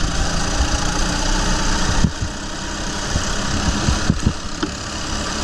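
Race car engines at the green-flag start of a sprint race at Raceway Park, New Jersey, a loud continuous close engine roar with slight surges and vibration throughout.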